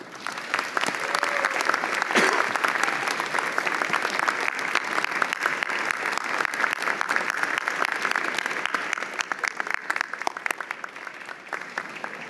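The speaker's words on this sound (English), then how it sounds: "turn around and give them a huge round of applause" A large audience at a university convocation ceremony for the faculties of education and management claps loudly and continuously for several seconds, then the applause gradually thins toward the end.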